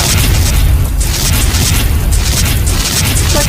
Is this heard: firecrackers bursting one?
yes